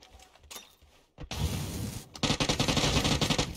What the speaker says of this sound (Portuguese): eu dei um tiro nesse cara